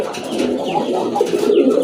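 A pigeon kept for sale coos in low, soft, repeated calls over a close, continuous murmur of other birds.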